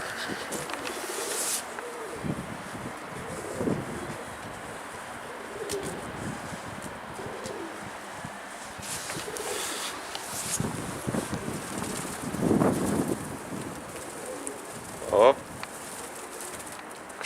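Pigeons coo softly in an outdoor spot with trees, faint and intermittent under gusty wind noise, with a person's voice and some handling sounds mixed in.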